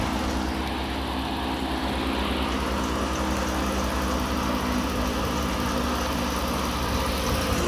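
A Dodge Ram engine idles with a steady, continuous hum and a cooling fan whirring nearby, the running note unchanged throughout and no voices over it.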